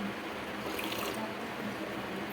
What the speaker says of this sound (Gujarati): તો અત્યારે હું લઉં છું ગરમ પાણી.